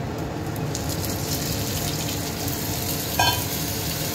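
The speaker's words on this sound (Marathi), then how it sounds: "त्यात थोडं पाणी घालून घेतलं, ते मी आता याच्यावर हळूहळू टाकते।" Thin flour water pours slowly into simmering kadhi in a pot, giving a continuous soft gushing, bubbling hiss at a steady level, with a small clink near the end.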